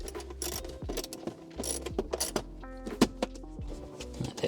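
Bolts being tightened into a Mercedes C-Class car console with a ratchet, giving quick, close bursts of metallic clicking in several short runs, with no talking.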